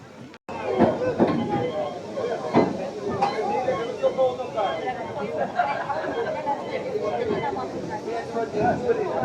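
A narrow-gauge forest train rumbles and hisses past while a crowd chatters nearby, with occasional clanks and bumps from the rail cars.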